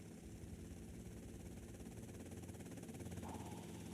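A continuous helicopter drone with a fast, even rotor chop, holding steady at moderate loudness with no voices.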